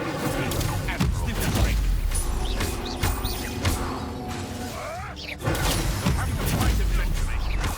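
Spell effects from Hogwarts Legacy combat, fire and blast casts like Incendio, as a dense, continuous barrage of whooshes, bursts and crackling impacts under game music, with a sharp hit near the middle.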